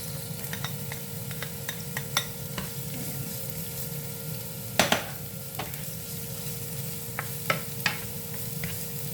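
Onions and garlic fry in a pan under a continuous close sizzle while a utensil stirs them, adding intermittent scraping clicks and a couple of louder clanks against the pan, with a faint steady hum underneath.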